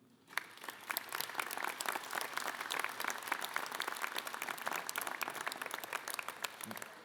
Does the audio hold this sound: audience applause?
yes